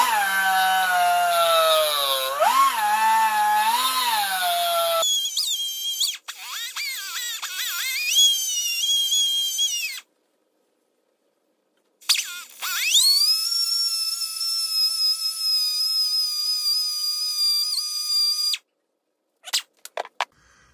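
A high-pitched power tool trims the plastic mounting ears of an RC servo in a fabrication shop, whining in several bursts with rising and falling pitch as it cuts, separated by short silences.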